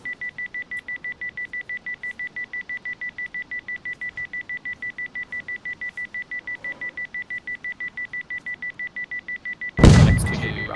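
Explosive charges in the video game DayZ beep in a fast, steady series of high, even pulses, ending abruptly in a loud burst of noise.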